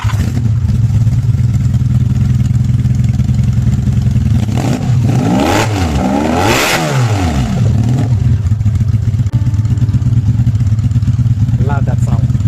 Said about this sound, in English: 1980s motorbike. It's a V4. Had 4 carburetors.